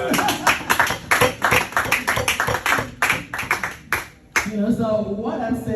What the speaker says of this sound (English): I think you can applaud him for that.